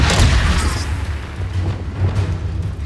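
A Confringo blasting spell explodes in Hogwarts Legacy, a loud, deep boom with a crackling burst up front that rolls into a rumbling, echoing tail of combat noise.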